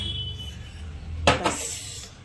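A hot pot of dal is set down with a short metallic clank and scrape, then a second lighter knock, against a quiet kitchen hum.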